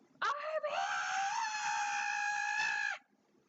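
A voice imitates the loud scream of a monstrous villain from the film Venom: Let There Be Carnage, one strained, harsh, sustained shriek lasting nearly three seconds before cutting off abruptly.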